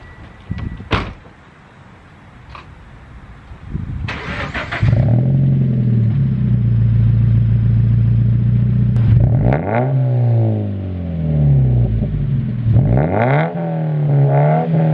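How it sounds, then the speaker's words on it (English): A Subaru BRZ fitted with a custom GTR R35 exhaust is warm started with a door thud, then settles into a loud, close idle broken by two sharp revs that rise and fall. "you're gonna see a warm start and some revs."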